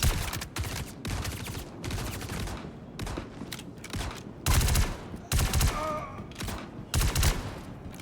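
Gunfire from a weapon in the video game Star Citizen, rapid bursts of shots in quick clusters with a few louder blasts, close and continuous over several seconds, with no talking.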